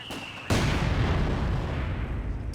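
Anti-tank guns and a heavy mortar firing in the Company of Heroes 2 strategy game: after a faint lead-in, a single heavy booming report rolls into a long, dense rumble of battle noise that continues to the end.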